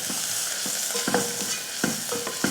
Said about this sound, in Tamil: சேர்த்துட்டு கொஞ்சமாக வதக்கி விட்டுருவோம்.